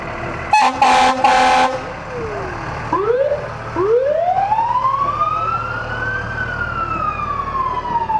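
A fire truck's air horn blasts twice in short bursts at a fair parade, then a mechanical siren winds up and rises into a long, loud wail over steady engine rumble nearby.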